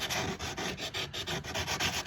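Sandpaper rubs steadily back and forth along the edges of wooden cigar box guitar parts, a close, continuous rasping scratch with a quick repeating stroke rhythm.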